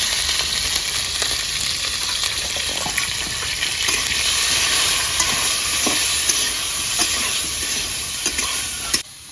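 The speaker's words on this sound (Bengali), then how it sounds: "ফুলকপিটা হালকা তেলে দিয়ে দেবো হালকা হলুদ, লবণ একটু" Cauliflower florets fry in a little oil with turmeric and salt, a loud continuous sizzle and hiss with scattered clicks and scrapes of stirring throughout, no voices.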